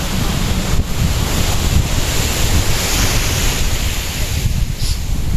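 Sea waves wash steadily onto a sandy beach, a continuous close surf roar mixed with gusty wind buffeting the microphone, with no talking throughout.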